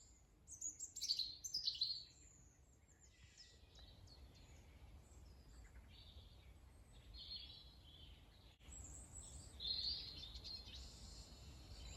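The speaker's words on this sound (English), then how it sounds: "that amazing sound that frankly sounded like a Polaroid, that was a siskin" Siskin calling at a reservoir in Staffordshire, a few bright high chirping phrases and twittering notes, moderately near, with quiet outdoor background between calls.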